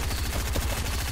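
Rapid automatic gunfire in a video game, a steady stream of close, loud bursts filling the whole moment with no talk over it.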